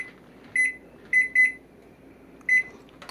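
A kitchen timer being set while soap simmers on the stove gives four short, bright electronic beeps at uneven intervals, two close together in the middle, over a quiet room with no talk.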